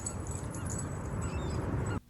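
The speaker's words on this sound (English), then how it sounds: "One of the movie dogs." A dog whimpers in a TV episode, faint high yips and whines over a dense background of score and ambience that cuts off abruptly at the end.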